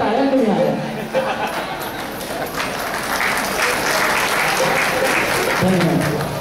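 Audience at a Navratri temple event in Hupari clapping together, a loud sustained round of applause with scattered voices underneath.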